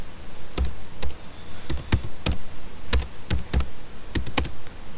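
Rapid, uneven keystrokes on a computer keyboard while coding a Hangman program, crisp clacks in short clusters close to the mic, with no voices.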